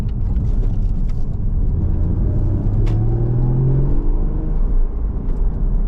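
A Porsche Cayman 981 sports car engine rumbles loudly and steadily, its deep tone rising and falling as it revs, with no voices.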